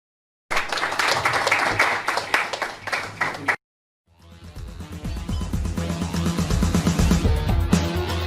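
An audience claps and applauds at an IBPC cricket Azadi Cup unveiling ceremony in London, a loud burst of clapping that stops abruptly, then swells again into sustained applause.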